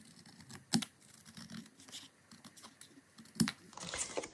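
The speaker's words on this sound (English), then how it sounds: "So I actually think I am going to cut those off" Scissors snip through paper flaps on a planner pocket, producing a few soft, close cuts and crisp paper rustles at low volume.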